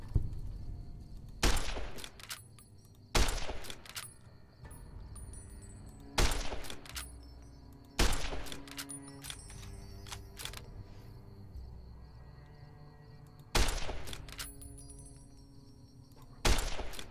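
Sharp single gunshots in Fallout: New Vegas, loud, evenly spaced cracks roughly every couple of seconds, each followed by a short echoing tail, with quieter game ambience between shots.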